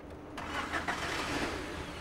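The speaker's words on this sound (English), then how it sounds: "Eric, make sure you're out of gear and start the engine" A car engine starting up during an MOT test inspection, cranking and catching into a steady, fairly loud mid-range running note that holds through the rest of the moment, with no talking.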